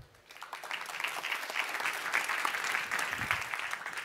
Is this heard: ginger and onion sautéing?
no